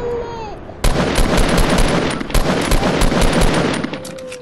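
Rapid video game gunfire from a player shooting, a loud burst of automatic shots rattling for about three seconds with uneven bursts, then tapering off.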